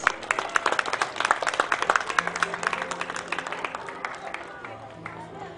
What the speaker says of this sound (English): big round of applause for our children